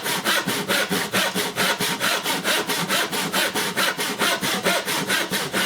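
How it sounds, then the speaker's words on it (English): A hand saw cuts through wooden pieces for baseboard legs in a fast, even rhythm of about three strokes per second, close and loud, each push and pull rasping steadily with no talking. "I can cut these down to form the legs for the fiddle yards"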